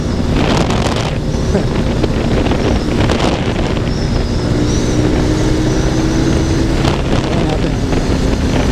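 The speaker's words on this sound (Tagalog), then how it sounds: "Lakas ang hangin eh" Strong wind roars and buffets the microphone throughout, a constant loud rumble with gusts, alongside a Honda PCX 160 scooter's engine-like drone and faint voices.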